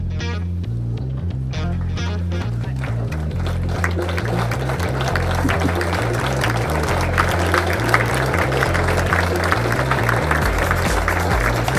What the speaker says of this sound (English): if you are in the row of the colour I've predicted, stand up and start clapping